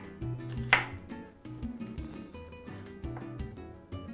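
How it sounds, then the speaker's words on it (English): A knife mincing half an onion finely on a cutting board, giving fast, steady rhythmic chops close by with one sharper knock early on. "we're gonna go ahead and mince half of this onion right here"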